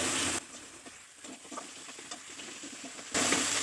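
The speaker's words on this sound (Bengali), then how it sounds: "দিয়ে মশলাটা খুব ভালো করে কষিয়ে নিচ্ছি।" Spice paste of chili, ginger and a spoonful of turmeric sizzles and fries in a pan while it is stirred for an olive and potato curry. The sizzle swells loud at the start and end, with a quieter crackling patter between.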